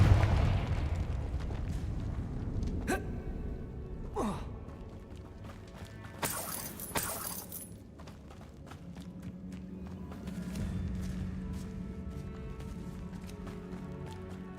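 Confringo fire spells blast in Hogwarts Legacy, producing several sharp, loud bursts spaced a second or two apart, with a crackling rush after the biggest one and a low rumbling ambience underneath.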